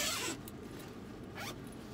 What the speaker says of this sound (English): It's got a zipper pocket on the back.